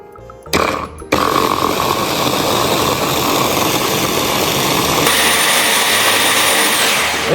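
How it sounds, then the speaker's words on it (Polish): A loud blender blending strawberries starts up and runs continuously with a steady, harsh motor whir. The pitch shifts slightly partway through as the strawberries break down. "Zamykamy pojemnik blendera blendujemy do uzyskania maksymalnej takiej jednej masy"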